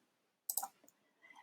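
A computer mouse gives a couple of quick, close, faint clicks in an otherwise quiet room, followed by a soft trailing click.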